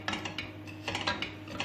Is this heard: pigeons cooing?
no